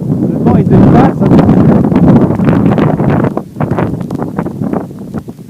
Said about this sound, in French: La pluie est battante en ce moment et oui, et le vent est vraiment très très fort.